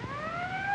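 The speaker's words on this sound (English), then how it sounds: "There's the ambulance now." An ambulance siren in a 1940s film scene gives a brief, steady wail that rises slightly in pitch, clear and fairly close with no talk over it.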